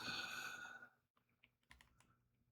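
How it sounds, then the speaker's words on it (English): Keys clacking on a computer keyboard while a command is entered in a terminal, a dense run of close typing that stops abruptly, followed by a few separate keystrokes after a pause. "we just type in the curl command"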